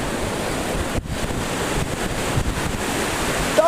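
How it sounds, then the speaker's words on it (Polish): Baltic Sea waves wash onto a coarse-grained sandy beach, a continuous rushing surf with heavy wind buffeting the microphone and no voices. "No a tutaj mamy nasze Morze Bałtyckie"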